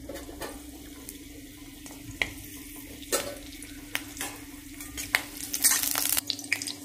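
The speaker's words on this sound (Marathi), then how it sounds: "तेल तापलं की त्यामध्ये कढीपत्ता," Curry leaves fry in hot oil in a kadai, giving a steady soft sizzle under a low hum, with scattered sharp clicks and scraping stirs that grow busier toward the end.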